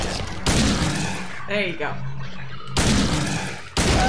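Silent Hill 2 gunfire, several loud shots in separate bursts, with someone speaking briefly between them.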